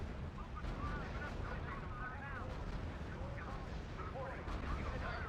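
Artillery fire from the strategy video game R.U.S.E. forms a dense, continuous rumble of distant booms and blasts, with someone talking over the battle noise throughout.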